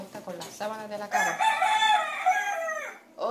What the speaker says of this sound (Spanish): Hola, gallo, hace tiempo no sonabas.